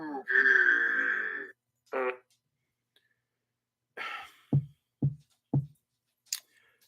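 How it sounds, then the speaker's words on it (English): A sound guy plays a fart noise sound effect in a talk-show studio: a long, loud opening blast, then a series of short, sharp bursts and quick squeaks separated by silence. "you keep playing fart noises?"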